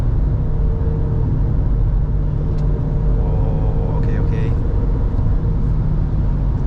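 Cabin view of a 2026 Proton X70 Premium with a 1.5-litre turbo four-cylinder accelerating on a Malaysian highway: a loud, steady low engine and road rumble that holds constant the whole time.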